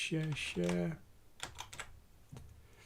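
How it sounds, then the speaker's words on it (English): Close, fairly quiet clatter of computer keyboard typing in short bursts of keystrokes, with a brief tonal sound just before it and no speech. "You can just hear me typing in the background."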